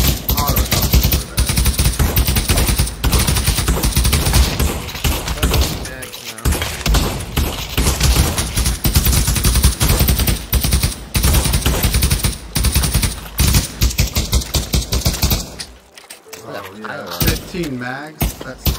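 An auto shotgun fires in the Pavlov VR shooter in dense, rapid, loud bursts, with a brief lull midway and sparser shots at the end, while players talk over the gunfire.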